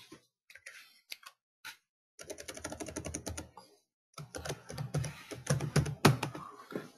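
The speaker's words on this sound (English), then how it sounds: "And I type my name, whatever information I need in here, I can complete it" Typing on a computer keyboard: scattered single key taps at first, then bursts of rapid, close clicking separated by a short pause.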